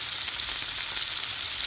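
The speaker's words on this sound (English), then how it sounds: "I'm frying it." Chicken liver fries in a pan, giving off a soft, continuous crackling sizzle that stays low and even throughout, with no talking.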